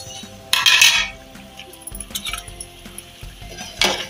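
A metal lid lifts off a pot of drumstick dal with a bright clink and rattle, followed by soft scraping and a second clatter of cookware near the end.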